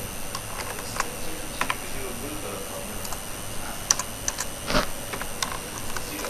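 C++ code is typed on a computer keyboard in steady, uneven clusters of close clicky keystrokes, with one sharper clack near the end, over a faint background hiss.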